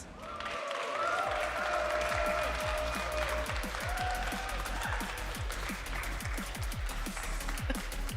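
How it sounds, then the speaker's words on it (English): Steady applause from a crowd at the 2025 Pokémon Vancouver Regional Championships, with many hands clapping continuously at a moderate distance under a faint hum of music or tones. "Please give a round of applause for Heidanis."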